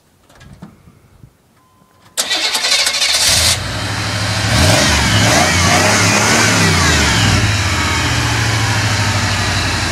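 A truck engine cranks and catches, then settles into a loud, steady running rumble with some revving, close by after a few quiet seconds of background noise.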